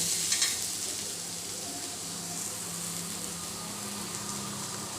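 Onion browning slowly in a pan over low gas heat, being stirred for a black masala paste: a steady soft sizzle with light scraping, close and even throughout, no talking.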